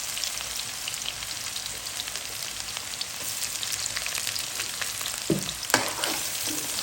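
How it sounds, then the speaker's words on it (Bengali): Green chilies fry in hot oil alongside fish, giving a close, dense sizzle with stirring scrapes and a couple of sharp knocks near the end. "দিয়ে দিলাম কাঁচামরিচ"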